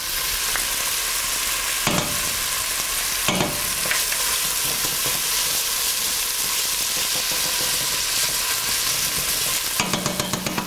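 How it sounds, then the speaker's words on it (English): Butter sizzles and spits steadily in a hot frying pan alongside onions while curried goat is cooked, with a loud constant crackle throughout and a few sharp clicks of a utensil against the pan. "Now I'm going to add just a touch more butter."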